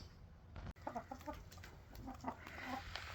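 Hens cluck in short, repeated bursts close by inside a henhouse as they settle on the roost, a steady farmyard murmur underneath, with a brief sharp knock early on.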